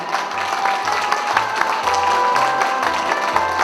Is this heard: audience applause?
yes